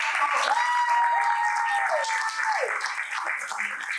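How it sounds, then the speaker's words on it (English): Conference audience applauding at a film financing panel session, sustained clapping from a crowd filling the whole moment, with a faint voice or tone riding over it. "Everyone give me a round of applause."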